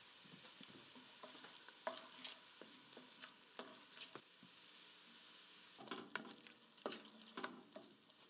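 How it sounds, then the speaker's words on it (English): Tomato paste stirred and gently cooking in a pan, a soft continuous sizzle under repeated scraping strokes of a utensil, close and moderately quiet, with no speech. "stir in the tomato paste and let it gently cook for a few minutes until it becomes a shade darker"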